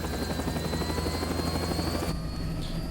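An aircraft taking off in Metal Gear Rising: Revengeance, a loud, continuous rotor-like drone with a high engine whine layered on top, holding steady without talk.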